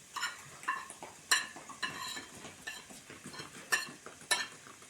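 Dry ground mustard and fenugreek spices being stirred, a spoon scraping and clinking against the vessel in short irregular strokes, close and fairly quiet with no talking.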